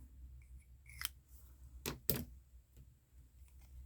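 Scissors snip at craft material while making an MDC shaker, a few sharp separate cuts close by against a quiet background.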